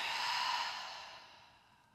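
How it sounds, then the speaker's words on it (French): One deep, slow breath exhaled through the mouth during a guided breathing practice, a close, breathy whoosh that fades over two seconds, heard alone. "Expirez par la bouche."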